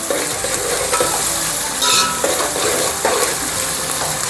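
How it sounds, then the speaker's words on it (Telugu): Onions and green chilies fry in hot oil toward golden brown, with a loud continuous sizzle and repeated stirring scrapes, one brief spattering burst in the middle. "ఇవన్నీ, ఉల్లిపాయలు, ఇవన్నీ మనం బాగా గోల్డెన్ ఫ్రై బాగా రావాలి."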